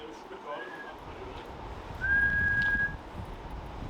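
A person whistles a short high note, then a longer steady sustained tone at a lighthouse, heard close over a low background rumble.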